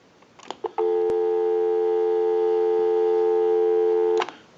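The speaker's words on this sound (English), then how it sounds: "go ahead and give you some dial tone." Dial tone on a Western Electric Princess telephone, a steady continuous hum lasting about three and a half seconds, clear and close, framed by brief handset clicks at the start and end.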